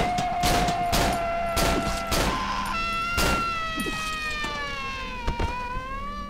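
Gunshots in the horror video game Cry of Fear, several sharp loud bursts in quick succession, followed by tonal whines and a later single shot.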